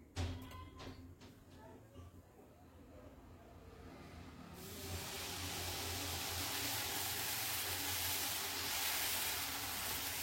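Dosa batter hitting an oiled pan, a sudden steady sizzle that starts midway and holds as a broad, even hiss, close but fairly quiet, after some softer kitchen clatter.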